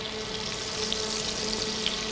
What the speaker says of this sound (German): hört es auch, dass unsere Pfanne schon schön bratet